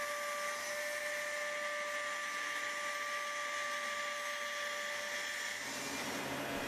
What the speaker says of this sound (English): The traced design is then carved using a small router by a craftsman.